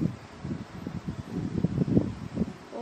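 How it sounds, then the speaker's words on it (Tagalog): Wind streams through an open bedroom window in a sequence of soft, low, puffing gusts that buffet the microphone, quiet but continuous over a faint hiss, with no voice. "Sobrang hangin. Kasi binuksan ko yung bintana ko, guys."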